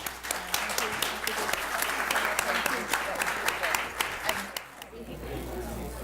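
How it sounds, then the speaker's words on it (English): Steady applause from a conference audience fills the room for a panelist, dense clapping that carries on for several seconds before tapering off. "So please let's give a warm applause to our first panelist."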